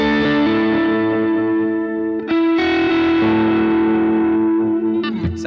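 An electric guitar through a delay pedal, with a lush, distorted tone, rings out in sustained chords, trailing echoes and repeats lingering after each strike.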